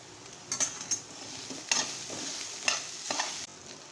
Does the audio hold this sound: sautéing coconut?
yes